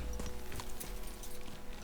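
Horse hooves clip-clop along a forest path in Kingdom Come Deliverance II, a soft, fairly quiet run of steady hoofbeats with no talking.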